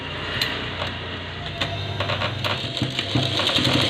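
A sewing machine stitches along the edge of a folded strip on a cover, a moderate, continuous mechanical whir with rapid ticking and a few clicks, heard alone at close range.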